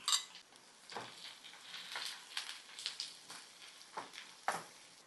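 Sliced onions sautéing in coconut oil in a pan, a steady soft sizzle broken by repeated scraping and clinking strokes of a spoon stirring against the pan, close and moderately quiet.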